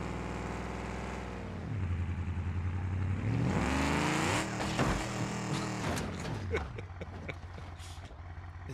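A truck engine in the BeamNG driving game revs up, its pitch climbing steadily and then dropping away. The engine stays prominent and close throughout, and a voice talks over it.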